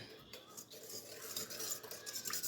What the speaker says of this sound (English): We're gonna give that a good whisk.